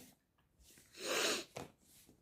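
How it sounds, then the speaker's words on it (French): One person sneezes indoors, a short sharp burst of breath preceded by a faint sniff, close and loud, with no talking around it. "Ah, décidément, moi j'éternue en ce moment."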